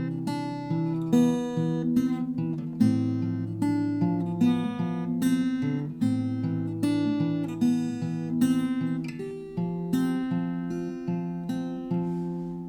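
Acoustic guitar strums the chord progression of a song, steady rhythmic chords ringing clearly and close with no voices.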